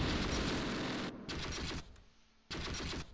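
Bursts of MG42 machine-gun fire in the Close Combat wargame, a dense, loud rattle that breaks off briefly, fades to quieter firing, then resumes at full strength.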